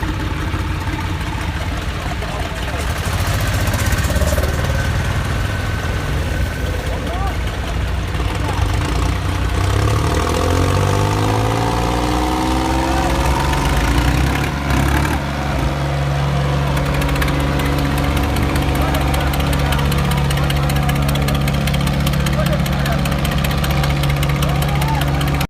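John Deere 5050D and Powertrac 445 tractors in a tug-of-war contest, their diesel engines chugging steadily and straining, pitch shifting midway, under a crowd of voices and talk throughout.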